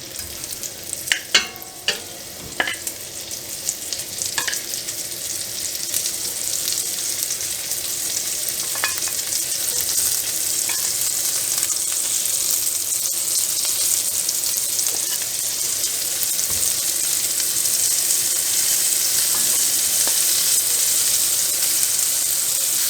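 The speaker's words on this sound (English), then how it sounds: "We want the beef to brown on all sides. So we're just going to stir it." Beef tips frying in a pan for a red wine sauce, a steady loud sizzle throughout with a few scraping clicks of stirring near the start, no voices.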